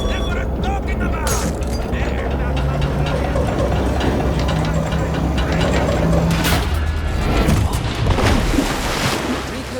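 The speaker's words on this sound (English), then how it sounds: "Rev up the engine." A submarine engine in the video game Hitman revs up, giving a loud, continuous low rumble with a heavy mechanical drone and occasional crackling bursts throughout.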